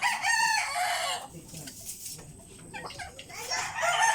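Roosters crow loudly nearby in a farmyard, one crow at the start and another at the end, with hens clucking and murmuring in between.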